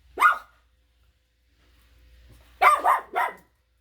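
A dog barks once at a noise, then after a pause lets out a quick pair of louder barks, close by in a quiet room.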